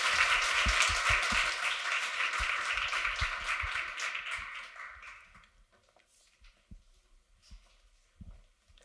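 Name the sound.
audience applause for a panel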